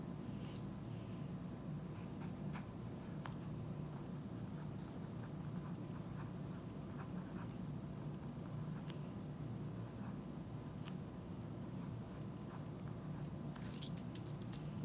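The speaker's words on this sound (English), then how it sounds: "write down on that piece of paper using that pencil what you think an inference is" Pencil scratching steadily on a sheet of paper in a quiet classroom, a continuous soft rasping texture with faint scattered ticks, close and low in level with no talking.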